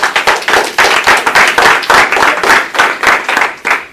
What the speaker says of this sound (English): Give everybody an applause who's joining tonight.